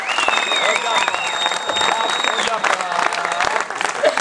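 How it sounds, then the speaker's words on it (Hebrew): Steady applause from an audience at the closing ceremony of a running race in the settlement of Eli, continuous claps throughout with a voice speaking over it and a whistle-like tone in the first half. "ובאמת, מחיאות כפיים ממש ממש"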